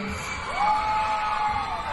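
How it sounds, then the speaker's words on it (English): A crowd at a high school drag show whoops and cheers loudly, with a rising yell standing out above the dense background crowd noise. "Look and listen who applauds."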